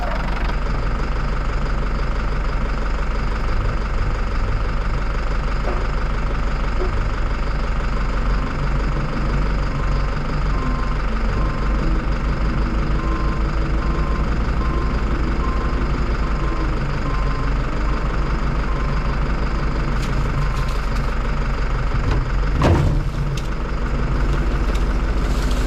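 A Cat loader's diesel engine idles steadily and loudly, stuck at low speed with a frozen throttle cable, a constant low rumble that never climbs, with a brief clunk near the end.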